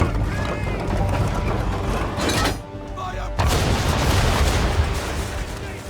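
Ship cannon broadside from an Assassin's Creed III naval battle, booming artillery over rushing sea and wind noise, with a brief lull and then a heavy renewed roar, under a talking voice.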